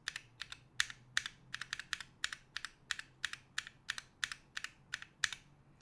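Close typing on an HHKB keyboard fitted with stock cream stem switches in yolk housings, a quick, uneven run of crisp, fairly loud keystrokes over a quiet background.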